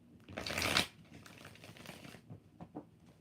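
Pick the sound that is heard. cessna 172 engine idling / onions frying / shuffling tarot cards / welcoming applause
shuffling tarot cards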